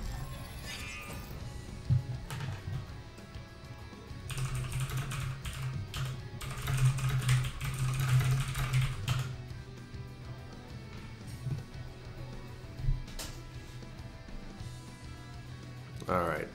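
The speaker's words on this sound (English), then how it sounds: "Let me type in the Discord." Fast bursts of clacking on a computer keyboard as someone types a message, with people talking over the keystrokes and some louder stretches of rapid typing.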